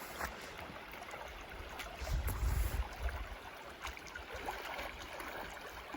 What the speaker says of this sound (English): Oh, now we're right next to the creek.